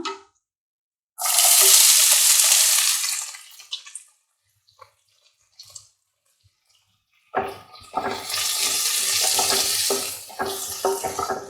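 Two bursts of loud, hissing sizzle from onions frying in a pan, separated by a few seconds of near silence with faint clinks.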